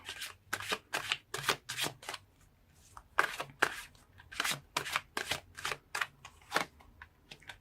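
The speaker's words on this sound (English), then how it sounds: "So let's pull more cards and see." Tarot cards shuffled and pulled by hand, a close series of quick riffling card bursts in an irregular rhythm with short gaps, soft and crisp with no talking.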